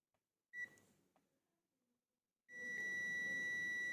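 A multimeter gives a steady continuity beep while testing a relay's contacts, starting as a short chirp, then cutting in as a sustained tone near the end of a quiet bench setting.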